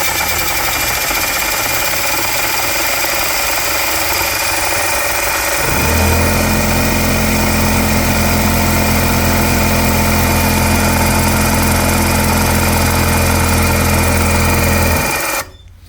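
A small Tesla turbine motor called Primitive Pete spins up with a loud, steady whining hum that jumps in pitch and holds, then cuts off abruptly near the end.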